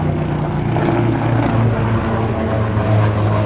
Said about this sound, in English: my God, that is a loud helicopter